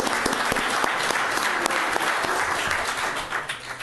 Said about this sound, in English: You can clap at this.